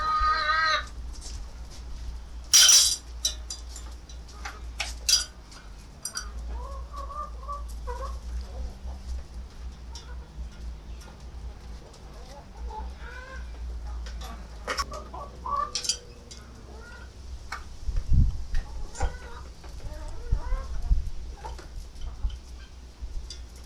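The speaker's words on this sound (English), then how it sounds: "The saucepan and spoon are placed on a lid and the chickens clean out the last remaining bits." Chickens peck the last bits of rice from a saucepan and spoon set on a lid, giving scattered metallic taps and pecks amid soft clucks and coos from the flock, close by and fairly quiet.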